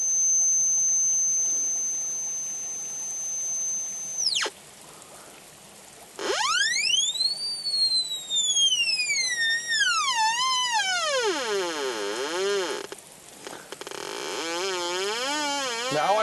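A Black Hawk metal detector emits electronic tones while its interference setting is adjusted: a steady high whine cuts off, then loud sweeping tones rise and fall repeatedly before settling into a sustained hum, with no speech.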